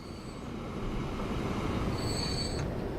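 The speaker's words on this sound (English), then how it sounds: "Here comes that train." A train in the game Transport Fever 2 rolls past with a steady rumbling drone, and its wheels squeal in thin high tones near the start and again toward the end.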